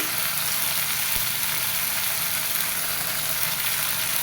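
Spice masala frying in a pan with a splash of water and salt added, a steady, dense sizzling hiss close by with no voices.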